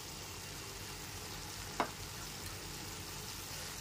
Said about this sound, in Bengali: এরপরে ভাজা চিংড়ি মাছগুলোকে দিয়ে দিলাম